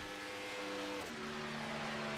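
A race car circles a superspeedway track, its engine giving a steady sustained drone with a slight pitch drop midway as it passes, fairly faint and without talking.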